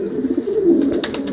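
A pigeon from a breeding pair, paired with a Cobra male, gives a short, low, rolling coo up close, with faint clicks toward the end.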